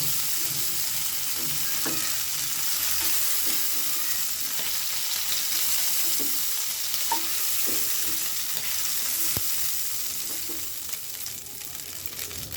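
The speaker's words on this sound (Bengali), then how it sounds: "মাছটা আমার ভাজা হয়ে গিয়েছে, আর লাগবে না, তুলে ফেলবো।" Shrimp fry in hot oil in a pan, producing a continuous close hiss and crackle with occasional sharp spatter pops and utensil clicks, easing slightly near the end.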